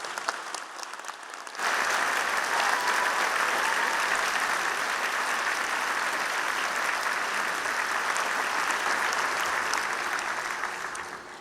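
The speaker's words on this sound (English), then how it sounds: "please join me in giving a big round of applause for our graduates" Sustained applause from a large crowd at a university convocation for graduates starts abruptly and continues steadily, loud and dense, fading slightly toward the end.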